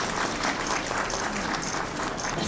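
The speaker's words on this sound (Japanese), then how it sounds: "盛大な拍手をお送りください" An audience at the Tokyo Marathon 2024 opening ceremony gives a performer a full, steady round of applause. The dense clapping fills the whole stretch and nobody speaks over it.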